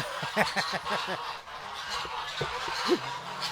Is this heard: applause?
no